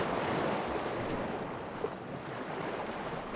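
Ocean waves in the video game Legend of Grimrock 2: a continuous washing surf roar with a windy hiss, steady and fairly loud throughout, with no talk.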